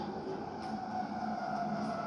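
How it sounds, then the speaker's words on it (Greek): A metro train in a video game, a steady low rumbling roll that holds at an even moderate level for the whole moment, with no voices. "Το ακούω το μετρό, το ακούω."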